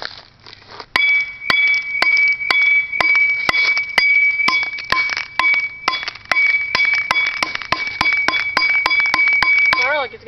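An iPod being smashed: a fast, steady series of hard metallic-glassy strikes, each with a bright ringing tone, repeating for several seconds close by.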